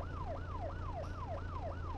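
A police car siren in the driving game BeamNG.drive wails in a fast, steady up-and-down yelp cycling about three times per second over a low engine hum, clear and prominent with no talk.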